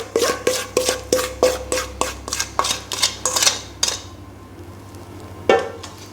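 Spatula folding wet ingredients into a dry eggless carrot cake batter in a bowl: about a dozen rhythmic scraping, clinking strokes close by, then a pause and one last scrape.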